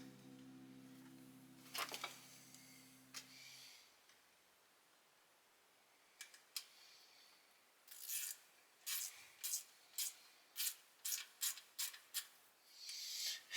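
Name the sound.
ratchet tightening water pump bolts on a Volvo 240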